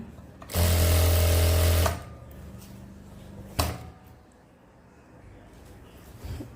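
A sewing machine stitches a men's shirt in one loud, steady burst of about a second and a half, then stops. A short clack and quieter handling follow.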